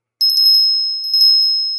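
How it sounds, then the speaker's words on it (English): A small bell rung by hand in two bursts of quick, bright strikes. Each burst ends in a clear ringing tone that fades slowly, with no other sound around it. "And so I rang the bell for Mbai"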